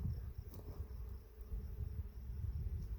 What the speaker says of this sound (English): This field is just buzzing.